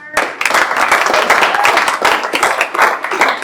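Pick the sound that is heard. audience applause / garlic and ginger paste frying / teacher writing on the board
audience applause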